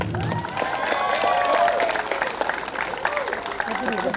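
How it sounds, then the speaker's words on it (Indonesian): Lively applause from an audience at a send-off ceremony for KKN community service students in a sports hall field, a crowd clapping with some cheering while voices talk over it. "mari kita beri tepukan yang meriah"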